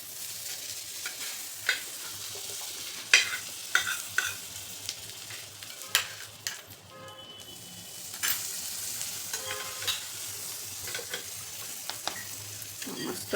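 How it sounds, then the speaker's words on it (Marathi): Kachchi dabeli toasting in butter on a hot pan, a soft close sizzle with frequent light scrapes and taps of a spatula, quieting briefly midway before resuming. "अजून थोडंसं बटर टाकायचं"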